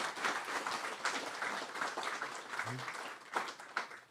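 Crowd applause at Fippy Fest 2024, moderate clapping from an audience, fairly distant and steady with brief louder bursts near the end.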